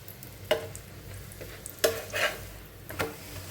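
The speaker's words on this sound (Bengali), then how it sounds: "আমি এটাকেই তেল দিয়ে কিন্তু ভেজে দিচ্ছি" A sweet potato paratha fries in oil in a pan, sizzling steadily up close while a spatula scrapes and presses it in a few distinct strokes, with no one talking.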